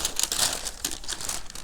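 Tissue paper with a pearly finish crinkles and rustles close by as LeBron XXI "Akoya" sneakers are unboxed, a dense run of crisp crackles with several sharper bursts, no voices.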